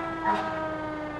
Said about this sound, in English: watch the fire trucks go by